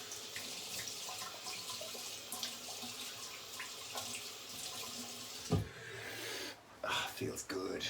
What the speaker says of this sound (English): Oh, cold water.